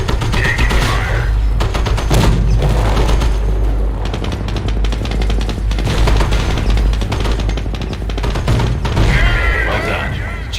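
Dense World War II gunfire from the strategy game Company of Heroes: sustained machine-gun bursts and rifle shots with heavy booms, loud and continuous, with occasional game voices underneath.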